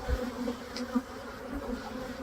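Honeybees buzz steadily around an open hive during a brood frame inspection, a continuous droning hum with a few brief closer passes.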